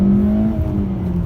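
A Honda Civic i-VTEC Sport pulls away from a standstill, its engine note rising steadily and droning close and loud inside the cabin, with no talk over it.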